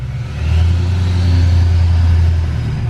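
A 2020 Duramax diesel truck engine revs hard, with a loud, deep, sustained drone and a rising turbo spool whine above it, close up and alone.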